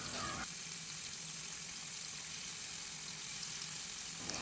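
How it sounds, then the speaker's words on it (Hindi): Pieces of paneer sizzle in leftover oil for a restaurant-style paneer do pyaza. The frying hiss is steady and even, with a brief clatter at the start and no talking. "इसको उसी बचे हुए तेल में फ्राई करेंगे"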